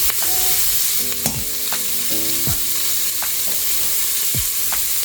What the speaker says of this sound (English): we're going to go in with some onions, some chopped garlic and ginger. We just mix it around nicely